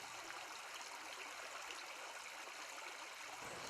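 A small stream flows past a path into woodland, a soft, continuous trickling rush heard alone and fairly faint throughout.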